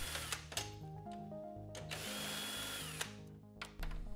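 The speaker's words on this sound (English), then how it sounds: "Use a 7mm socket to remove the 6 screws in brace near the column." Power tool with a 7mm socket driving out screws from a dash brace near the steering column, close whirring bursts that stop and start with shifting pitch.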